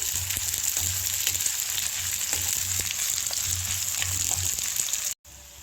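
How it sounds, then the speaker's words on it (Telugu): Sliced onions frying in a pan of oil for a dosakaya curry, giving a constant close sizzle with light crackles and pops that cuts off abruptly just before the end. "ఇప్పుడు ఈ ఆనియన్ అయితే కొద్దిగా కలర్ అయితే వచ్చే వరకు అయితే ఫ్రై చేసుకుంటాను"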